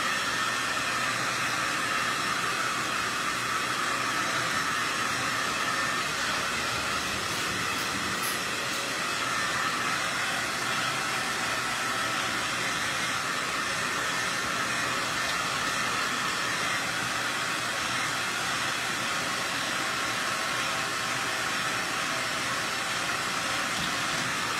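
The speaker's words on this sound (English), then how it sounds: "we're gonna hit it with the blow dryer" A blow dryer drying paint on a DIY monogram sign runs as a steady, loud whooshing roar that holds unbroken from start to finish with no talk over it.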